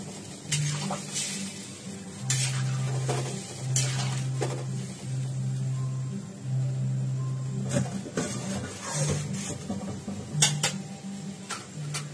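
Dum aloo stirred in a pot and then covered, with repeated clinks and scrapes of a utensil against the metal pot over a low steady background, the contacts irregular and fairly close.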